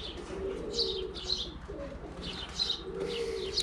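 Pigeons kept by a breeder coo in repeated low, rolling phrases at close range, with faint chirps overlaid and some soft background rustle, no talk.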